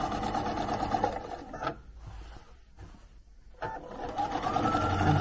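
A sewing machine stitches a quilt panel in quick mechanical bursts, pausing twice for a second or so as the fabric is turned with the needle down before stitching resumes, close and clear.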